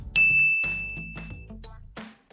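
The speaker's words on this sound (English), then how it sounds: "Give me more bells than that." A bell ding sound effect played as a celebratory cue on a sports talk broadcast: a bright, sustained ding that rings out and decays, followed by several softer chiming strikes, loud and alone with no talk.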